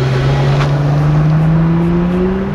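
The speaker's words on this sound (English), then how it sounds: "And here's a launch for the Prowler." A 1999 Plymouth Prowler launches from a standstill, its engine droning loud and close with a slowly climbing pitch as it pulls away, with no talk.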